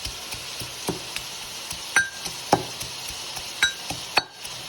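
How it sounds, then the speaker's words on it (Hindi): Garlic is pounded with dried coriander and salt in a kitchen, giving a series of sharp, uneven thumps and clinks at a moderate pace, each strike distinct and close. "1 चम्मच सूखा धनिया डाल के लहसुन कूट लेते हैं"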